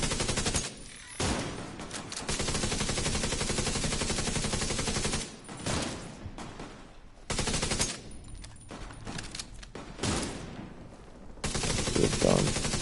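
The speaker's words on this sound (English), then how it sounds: "I love this sniper rifle." Heavy gunfire in The Division 2, where a sniper rifle is in use, sounds in long loud sustained stretches broken by a few short quiet gaps, with no voices over it.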